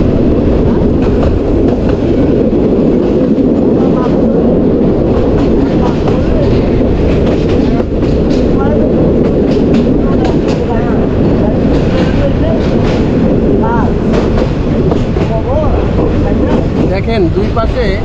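A passenger train rolls along rails through a narrow cutting where tree branches brush close on both sides, giving a loud, continuous rumble and rattle throughout while someone talks over it.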